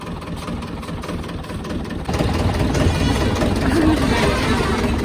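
A tractor engine runs steadily up close, idling with a heavy low rumble that grows louder and denser partway through, while people talk nearby.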